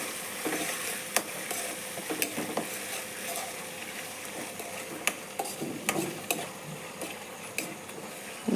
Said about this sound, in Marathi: त्यानंतरच त्या डाळीला आपण थोडंसं परतून घेऊया.